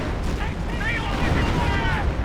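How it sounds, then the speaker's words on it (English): An artillery barrage pounds a Hotchkiss in Company of Heroes, dense continuous rumbling explosions under a caster's excited commentary, loud and sustained throughout. "Big barrage nails this Hotchkiss even further"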